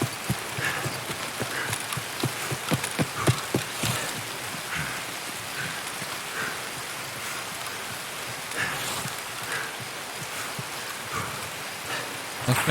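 Rain falls steadily in the Escape from Tarkov video game, a broad hiss with a run of close, rhythmic thuds early on that fades to softer scattered taps.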